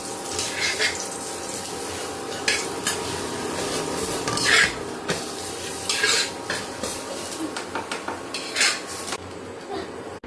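Oil sizzles on a sattu paratha frying on an induction cooker, a steady close hiss with scattered clinks and scrapes of a utensil against the pan.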